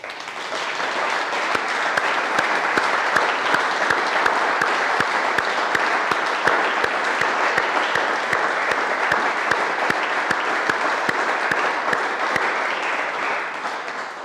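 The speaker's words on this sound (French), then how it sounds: "Et je vous propose que nous les applaudissions." Sustained applause from a large crowd, dense and even, with no pauses for the whole stretch.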